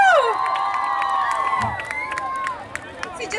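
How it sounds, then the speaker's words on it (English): A crowd cheering and whooping at an on-stage celebrity environment day event, with loud shouts and whistles at first, then steady cheering and scattered claps that settle down. "Big round of applause for Raghu and Rajiv."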